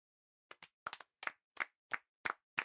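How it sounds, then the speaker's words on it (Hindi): Children in a classroom clap in short, sharp bursts, a handful of irregular claps followed by a steady beat of single claps, close and clear with no talking. "ताली सब लोग।"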